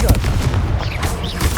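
A Confringo fire-blast spell in the Hogwarts Legacy video game, a loud, close, booming explosive burst with a rumbling tail, mixed with a voice calling out.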